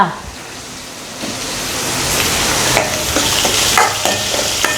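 Onions and tomatoes sizzle loudly in a pan while a spoon stirs them, scraping and clacking in irregular strokes over a steady frying hiss, for a spiny-tailed dried fish curry.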